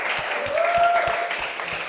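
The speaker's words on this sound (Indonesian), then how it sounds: "kasih tepuk tangan untuk teman-temanmu." Classroom students clap for their classmates in a lesson, a steady wash of clapping with a few heavier thumps and a brief whistling tone in the middle.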